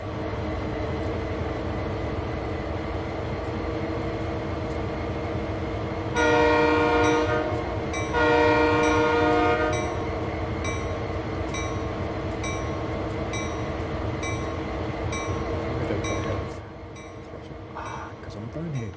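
SD40 diesel freight locomotives idle on Sherman Hill in Train Sim World 2. A heavy engine rumble runs throughout, broken by two long, loud horn blasts, with a voice talking over it.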